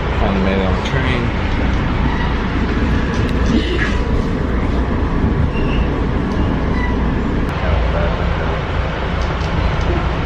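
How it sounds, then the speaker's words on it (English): Steady low rumble and rattle from inside a moving New York City train heading to Penn Station, continuous throughout, with faint muffled voices in the background. "Finally made it on the train."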